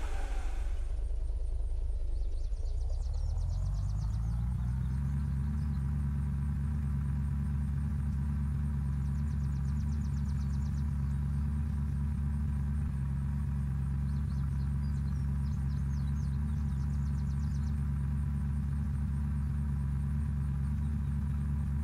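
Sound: car engine running in the video game Unturned

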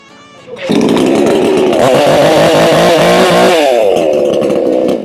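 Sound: chainsaw engine starting and revving

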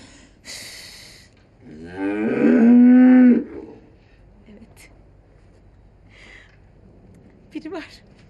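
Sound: ox mooing

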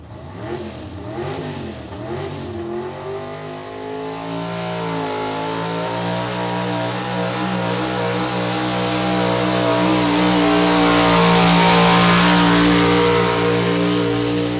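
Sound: farm tractor engine revving at a tractor pull

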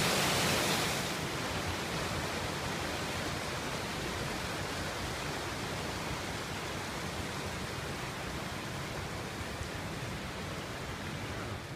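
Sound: flowing river

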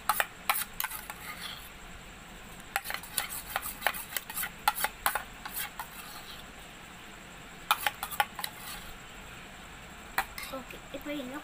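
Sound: mixing fevigum slime with homemade activator

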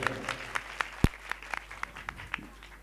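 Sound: audience applause at dance competition

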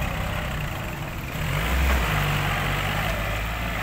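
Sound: Kubota L3608 tractor engine

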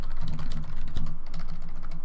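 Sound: typing on a computer keyboard

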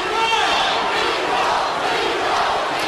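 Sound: fight crowd chanting Nico

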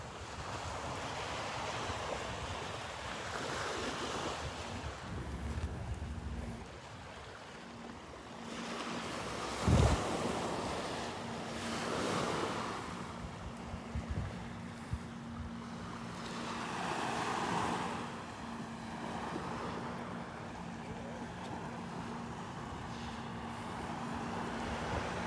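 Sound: waves on the beach at Delnor-Wiggins

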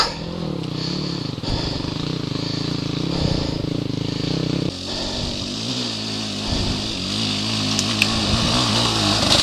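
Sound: motorcycle engine revving

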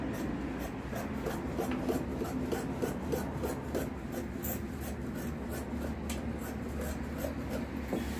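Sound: cutting fabric for a Patiala salwar

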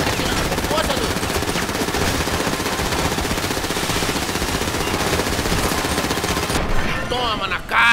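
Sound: gunfire in GTA 5 video game

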